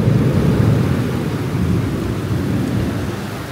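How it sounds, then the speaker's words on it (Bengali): Steady rain pours outside a window, with a deep continuous rumble of thunder rolling beneath it, fairly loud and unbroken throughout, with no voices. "এখন বৃষ্টি, বৃষ্টির সাউন্ড, মেঘ চমকানো সবই দেখা যাচ্ছে এক জানালা দিয়ে।"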